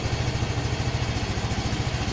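A new motorcycle engine idles with a steady, low, rough pulsing throb, close and continuous throughout, with no voices over it.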